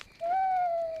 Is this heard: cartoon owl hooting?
yes